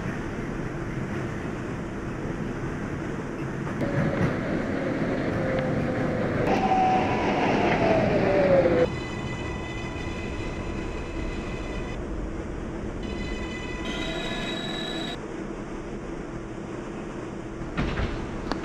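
A Manhattan-bound 6 local subway train in New York runs with a steady rumble and rail noise, rising whine as it brakes, then doors and chimes over a continuous loud car interior.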